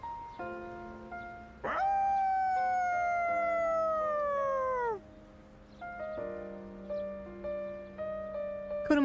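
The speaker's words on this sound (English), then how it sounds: "Koromaru's howl resounds throughout the quiet shrine." A dog's long mournful howl from a video game, rising then sliding down over a few seconds at a quiet shrine, set against soft sustained game music with tonal notes.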